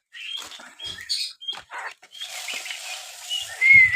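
Home-hatched quail kept in a pen give a quick run of short, high chirps and whistles, close by and fairly clear, with brief gaps between calls.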